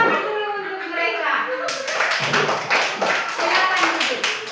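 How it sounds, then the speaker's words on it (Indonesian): A group of children claps their hands in applause in a classroom, a dense burst of many close claps under lively chatter and someone speaking beforehand. "Tepuk tangan dulu untuk mereka."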